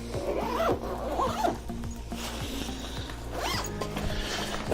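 A suitcase zipper is drawn closed around a portable speedlight studio kit in several close, ratcheting pulls, each a rasping burst with brief pauses between strokes.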